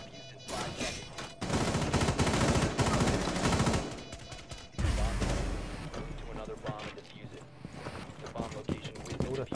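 A weapon in a tactical shooter video game fires loud rapid bursts of gunshots in two close clusters, with rattling echoes and someone talking between volleys.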